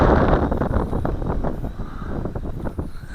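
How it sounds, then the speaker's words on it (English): Strong gusting wind buffets the microphone outdoors while a JJRC H12C drone flies on a windy day, a loud, continuous broadband roar with fluctuating surges and no talking. "It's a heck of a wind for it to be fighting,"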